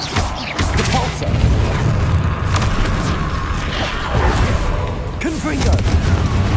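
A Repulsor spell blast in Hogwarts Legacy sounds as a loud, booming magical burst with crashing impacts and rumbling effects, layered with other game combat noise and a voice calling out.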